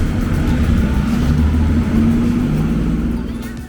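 An old Bangkok city bus with open windows and no air conditioning rumbles steadily along, its engine drone loud and close throughout, easing slightly at the end; faint voices sit underneath.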